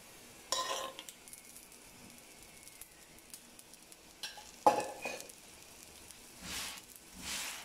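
Paratha bread frying in ghee on a pan crackles with a quiet, steady sizzle, punctuated by a few louder bursts of spattering and scraping as it is pressed and turned, with no voices.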